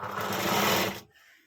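A sewing machine runs in one steady, loud burst for about a second while stitching three blouse pieces together along a single margin, then stops abruptly.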